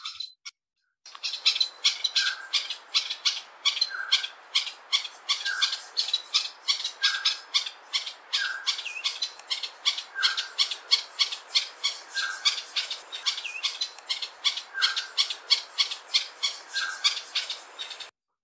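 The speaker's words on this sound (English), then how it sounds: "he noted the very distinctive call which the bird used when guiding." A honeyguide gives its guiding call, a rapid, continuous chatter of sharp chirps repeated at a steady pace for many seconds, heard clearly on its own with no voices.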